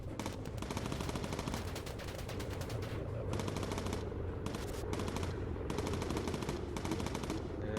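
Gun emplacements in Bomber Crew fire long rattling machine-gun bursts, continuous and rapid, broken by short pauses, steady and fairly loud throughout.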